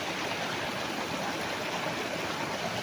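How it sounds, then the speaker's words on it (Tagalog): A river at the boundary of a farm lot with bamboo in Liliw, Laguna flows with a steady, even rushing hiss, close and unbroken throughout. "So tabi po mismo ng magandang ilog."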